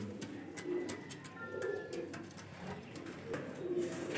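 Golden Kamagar Dabwalay baby pigeons coo softly and repeatedly, low burbling calls close by against a faint background, with no talking.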